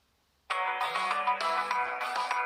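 A Nokia 1.3 Android Go phone ringing for an incoming call, its ringtone starting abruptly and playing as a loud, bright, steady melodic tone up close, with no talk over it.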